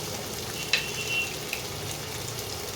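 Chopped tomato fries with onions in a pan, a soft steady sizzle and crackle throughout with a couple of light utensil taps, and no voices.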